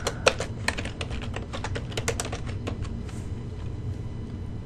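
A customer's name is typed on a computer keyboard in quick, irregular key clicks that come close and clear, then thin out and stop, with no talking.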